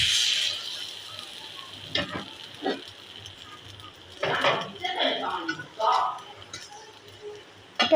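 Chitoi pitha batter spooned one by one into a hot pan over medium-high heat, giving a steady close sizzle with fresh hissing surges as each portion lands, partly under a voice.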